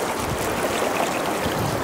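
The river at Tamolitch Falls (Blue Pool) near McKenzie Bridge, Oregon, rushes in a steady, loud, broadband wash of flowing water, continuous and close with no voices.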